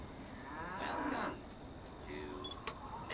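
A person gives a drawn-out mooing call, imitating a cow, in Fallout 3, followed by quieter murmuring and a brief sharp click.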